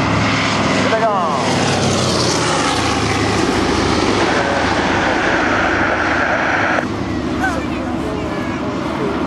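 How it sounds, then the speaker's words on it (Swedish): A Douglas DC-3 propeller airliner passes low over an airshow at Vallentuna in 2008, its loud, steady engine drone filling the whole stretch with a rising and falling pitch as it flies by, while an announcer speaks over the public address. "Då har ni DC-3an och inte särskilt hög höjd."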